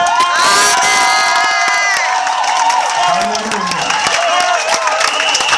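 A large crowd at a religious gathering in Côte d'Ivoire cheers loudly and continuously in acclamation of God, with shouts, whoops and high excited voices blending into a dense, sustained roar.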